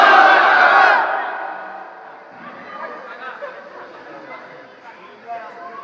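Crowd at an Islamic sermon gathering shouting Allahu Akbar in unison in reply to a takbir call: a loud collective roar lasting about a second that fades into a single speaking voice.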